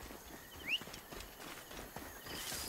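A horse's hooves clop along in Assassin's Creed Origins, a quiet, uneven walking patter with a short sharp game sound partway through.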